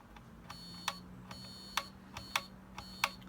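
A continuity tester checks a TRS-80 Model I keyboard switch, firing short sharp beeping buzzes in an uneven series of about nine over a faint hum, each clear and close.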